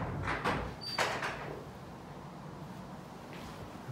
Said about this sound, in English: Remember to close the door behind me.